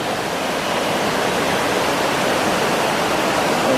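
Strong current of the Kanjirappuzha river in Munnar rushing steadily, a dense, loud, continuous roar of flowing water with no voices.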